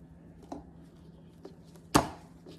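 Garlic being cut and crushed on a board for homemade kimchi, a few sparse knife taps followed by one sharp, loud smashing thud, close and alone over a faint background hum.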